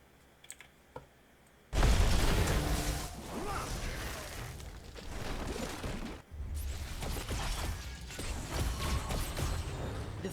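A fort collapsing in the Heroes of the Storm video game: a sudden loud crash, then a long, dense roar of crumbling rubble and game effects with a brief dip before the noise swells again.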